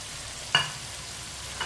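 Potatoes frying in a pan with tinda gourd give a low, quiet sizzle, broken by two brief stirring scrapes close by.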